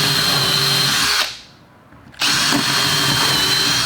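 A power drill bores through plywood backed by a sacrificial plywood scrap: a loud, steady whine that cuts out for about a second and then resumes at full strength.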